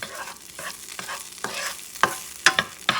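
Picadillo with cilantro stirred and caramelized in a pan, with a low background sizzle broken by repeated spoon scrapes and sharp clinks against the pan, close and growing more percussive toward the end.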